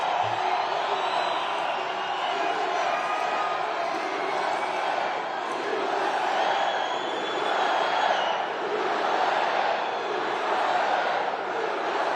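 A large crowd at a Trump caucus rally in Reno, Nevada cheers and whoops steadily, a dense, loud roar of many voices that continues without a break.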